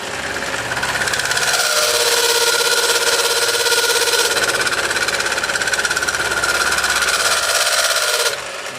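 A cutting machine making a 1mm cut at lower speed on an antenna bracket workpiece, a loud, dense, rattling grind held steady for about eight seconds before cutting off abruptly.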